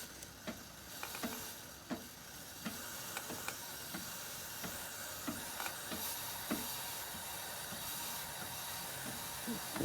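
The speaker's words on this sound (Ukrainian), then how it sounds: "Лівою рукою пшикаєш, правою рукою крутиш." Chain cleaner is sprayed onto a motorcycle chain while the wheel is turned by hand, giving a steady, faint hiss with soft, regularly spaced ticks from the moving chain.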